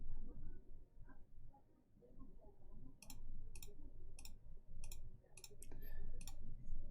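Crisp, rapid key clicks from a Mode 80 TKL keyboard with an aluminum plate and Alpacas switches, typed in quick bursts over a low background rumble and faint talk.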